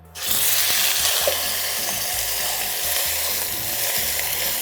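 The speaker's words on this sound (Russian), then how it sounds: "мы наливаем подсолнечное масло, растительное масло, и укладываем на сковородку курицу" Chicken hits hot sunflower oil in a frying pan and a loud, steady sizzle takes over, crackling continuously up close without any talking.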